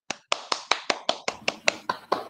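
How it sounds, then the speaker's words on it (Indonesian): Classroom applause for a student after a poetry reading, about a dozen separate sharp claps in a slightly uneven rhythm, fairly close and moderately loud, with no talking over it. "Tepuk tangan dulu buat Julis."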